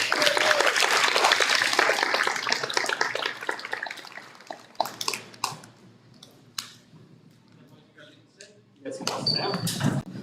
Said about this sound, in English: Let's give them all one big more round of applause.